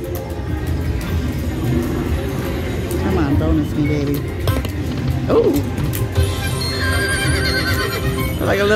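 Horse neighs and clip-clopping hooves play from a casino slot machine game, a whinny standing out amid steady electronic jingles and casino din, with someone talking over it.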